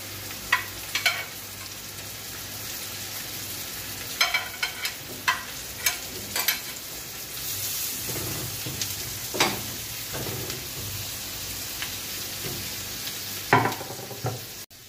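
Pumpkin, carrots and onions cooking in a pot, a constant soft sizzle broken by intermittent knocks and scrapes of stirring, close and moderately loud.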